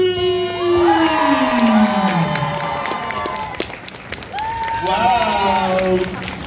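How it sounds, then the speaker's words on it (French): Crowd at a cosplay contest bursts into applause, cheering and whoops, with loud voices shouting over the clapping throughout; the noise swells again near the end. "je voudrais qu'on applaudisse bien fort, s'il vous plaît"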